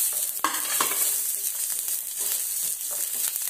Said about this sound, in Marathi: हे आता आपण फ्राय करून घेऊया.